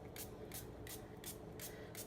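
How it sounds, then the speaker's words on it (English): A spray bottle mists the top of a freshly poured swirl soap in six evenly spaced, short hissing spritzes over a low steady background. "we're spraying the top of this"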